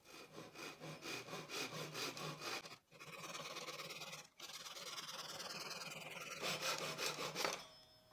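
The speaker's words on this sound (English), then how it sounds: "For the branch, I'll make a few cuts using a Japanese saw." A Japanese handsaw cuts through a tree branch with fast, steady rasping strokes, close and clear, stopping for two short breaks partway through before sawing resumes.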